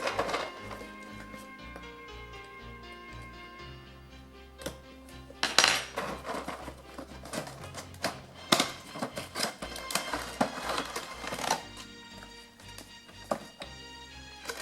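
An SH Figuarts Super Saiyan 4 Goku figure from Dragon Ball GT being unboxed: close, irregular plastic clicks, taps and crinkles come in uneven bursts, loudest in the middle stretch, with no talking.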